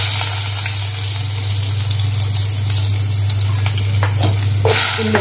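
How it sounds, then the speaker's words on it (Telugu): Onions frying in about 140 ml of oil in a kadai, a steady loud sizzle with a constant low hum beneath and a brief stir or splash near the end, no talking. "కడాయిలోనికి ఆయిల్ తీసుకొని 1 40 ml వరకు ఆయిల్ తీసుకొని, ఇప్పుడు ఈ ఆయిల్లోకి మనము ఉల్లిపాయలు వేసేస్తాం."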